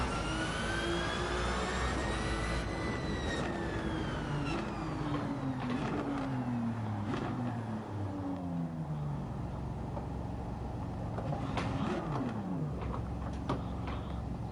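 Ferrari engine revving in Gran Turismo 7, a loud continuous high-pitched wail climbing and dropping through gear shifts, alone with no talk.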